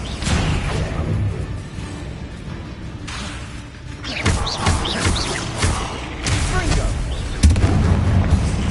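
Confringo spell explosions in the Hogwarts Legacy video game, a series of loud booming blasts and bursts in quick succession amid combat clatter, with a voice talking over them.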